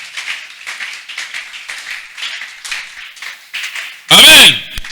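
Church congregation clapping in a steady, rhythmic beat during a service, with a sharp loud cheer bursting out at the end and a voice speaking over the clapping.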